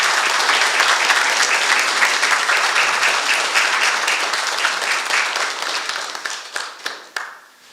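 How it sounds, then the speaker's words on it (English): A big round of applause at a city commission meeting, many hands clapping loudly and steadily before tapering into scattered individual claps at the finish. "I want to give you a big round of applause for everything that you have done"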